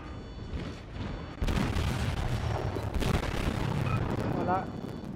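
Heavy cannon fire from a Japanese battleship in the video game World of Warships booms in a burst of blasts over continuous rumbling battle noise, with a few faint electronic chirps near the end.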